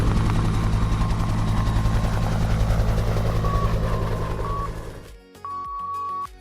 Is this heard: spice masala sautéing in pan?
no